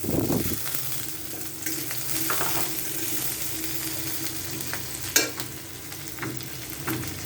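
Chopped onions and green chillies fry in a pan for Bengali cooking, a continuous close sizzle with occasional stirring scrapes and a sharp clink near the end.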